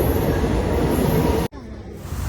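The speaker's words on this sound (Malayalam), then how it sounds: "നമ്മൾ പോണത് ഈ ട്രെയിനിലാണ്. അപ്പോൾ ഇത് വരുന്നുണ്ട്." A passenger train arriving at a station in Kerala gives a loud, close rumble of wheels and carriages that drops away abruptly, leaving a quieter hum, with no voices.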